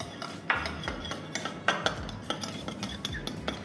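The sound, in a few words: mixing salt, pepper, garlic powder and paprika dry rub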